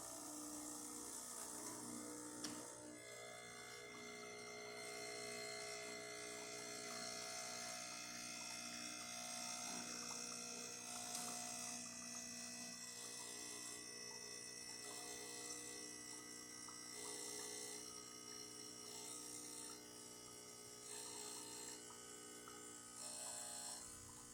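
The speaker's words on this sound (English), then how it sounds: "it's just to show you that the machine can pull a shot." A Bezzera BZ13 espresso machine pulls a shot of espresso, its pump giving a steady, fairly loud mechanical hum and buzz that runs unbroken from start to finish, with no talking.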